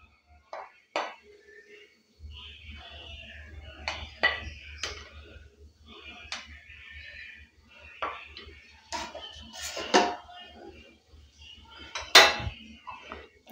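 A lid is set onto a pot of fried rice in a home kitchen, giving several sharp metallic clinks and taps scattered over the clip, close and fairly quiet, with faint speech in the background.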